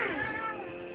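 A cat gives a single short meow up close, falling slightly in pitch as it fades, with no other sounds around it.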